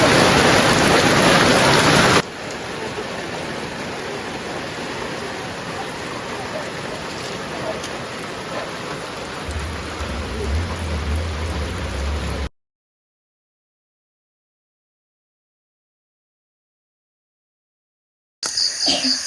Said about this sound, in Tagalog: bumalik na naman po yung ulan